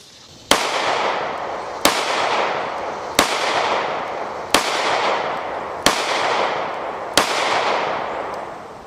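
Six evenly spaced pistol shots from a Girsan MCP35 LW, each a sharp, loud crack with a long ringing outdoor echo, about one and a half seconds apart, with no talking.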